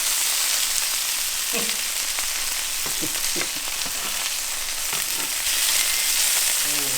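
Freshly caught fish frying in a pan over a hot spot, a constant hissing sizzle with a few sharp clatters and bursts of spitting as the fillet is flipped.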